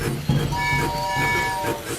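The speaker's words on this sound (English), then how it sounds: "Except for the train." Cartoon steam train rolling along with a steady clattering rumble and a sustained whistle tone, brief and close.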